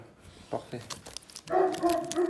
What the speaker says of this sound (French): Excusez-moi pour les bruits de fond, hein, c'est le chien, il est excité